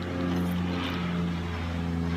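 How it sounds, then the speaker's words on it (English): A propeller airplane drones steadily overhead, a loud, constant low engine hum filling the whole stretch without any talking. "let the plane fly over our heads."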